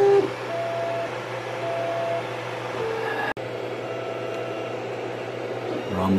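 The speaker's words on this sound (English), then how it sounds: "Tower still printing nicely." A 3D printer lays down a filament temperature calibration tower, its stepper motors making a steady close electronic hum with faint shifting tones and a brief click midway, no one speaking.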